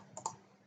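A few faint computer mouse clicks, two close together and one more a moment later, while selecting a menu item in traffic simulation software.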